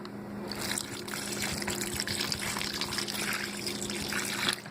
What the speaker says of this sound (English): Now instead of water, because we don't want to water that down, we're using some apple juice.